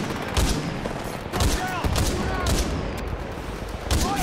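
Spitfire machine-gun fire in Titanfall 2 during an Attrition match: several sharp, rapid bursts with short gaps between them, loud and close, over a constant layer of game noise.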